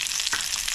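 Brief, close hiss and crackle of small onions and fresh curry leaves frying in hot oil, steady with one soft bump partway through.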